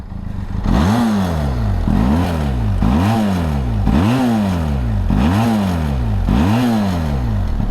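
A Benelli TRK 502 X motorcycle engine revs repeatedly in loud, rising bursts, about six throttle blips in a steady rhythm, close up with no talking.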